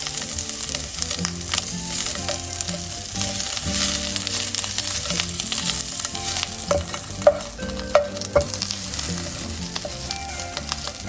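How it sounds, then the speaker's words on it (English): Chorizo sausages sizzle and crackle over a high flame in a pan, a steady busy fry with scrapes and clicks from stirring and a few sharper knocks toward the end. "Make sure you don't burn your chorizo sausages."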